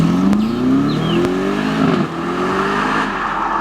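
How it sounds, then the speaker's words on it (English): A 2025 Aston Martin Vantage with its retuned engine revs loudly and alone, the pitch climbing steadily in a single strong pull before easing back to a sustained throaty drone. "Even the sound is unmistakable Aston."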